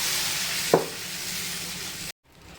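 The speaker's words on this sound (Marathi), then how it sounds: "तर आता आपण बॅटर पसरवून घेऊया" Moong dal dosa batter is spread on a hot oiled pan and gives a steady loud sizzle, with one brief scrape partway through, then cuts off abruptly.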